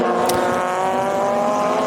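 Race cars, including a Mazda RX7 and a BMW, roar along the circuit during a production car race, a loud, sustained engine drone with steady harmonic tones close by.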